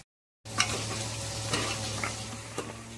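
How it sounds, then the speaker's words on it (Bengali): Cumin seeds, a bay leaf and torn dried red chilies hit hot oil in a pan, giving a sudden close sizzle and crackle that keeps frying steadily with a few small pops, no voices. "একটু সাহাজিরে ফোড়ন দিয়ে দিচ্ছি, তেজপাতা দিয়ে দিচ্ছি, আর দুটো শুকনো লঙ্কা ছিঁড়ে দিয়ে দিচ্ছি"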